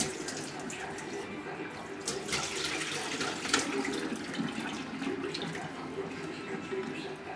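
Steady tap water pouring into a kitchen sink while about four pounds of northern pike pieces are strained and rinsed for pickling; a continuous close splashing rush with occasional sloshes, fairly quiet throughout.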